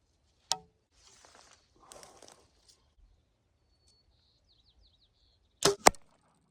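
A carbon arrow shot into a stack of paper sheets gives a sharp snap, then faint rustles. After a quiet pause, two loud, close impacts follow in quick succession, with no talk.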